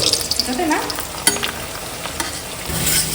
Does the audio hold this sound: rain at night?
no